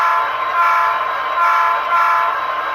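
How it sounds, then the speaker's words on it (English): Short horn blast from an Athearn Genesis SD70 Norfolk Southern model locomotive running a Tsunami 2 sound decoder, a steady bold tone held across the whole moment with slight swells, loud and close, no talking. "Function 3 is going to be your short horn"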